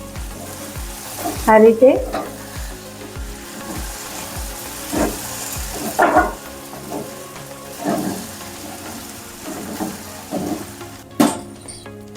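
Sabudana khichdi roasting in a pan over a medium gas flame, steady sizzling and frying with scraping stirs at intervals, close and clear, with a brief spoken phrase.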